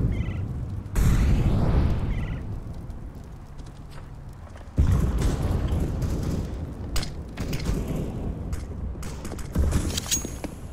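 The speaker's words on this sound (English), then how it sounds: "Incendiary." Incendiary grenade in Counter-Strike: Global Offensive bursting into a loud, crackling roar of flames, with two heavy onsets and sustained broadband burning noise dotted with sharp pops throughout.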